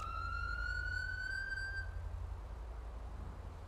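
A police car's dual siren in a roleplay video game rises in one clear wailing sweep for about two seconds, then cuts off, leaving a faint low rumble of background noise.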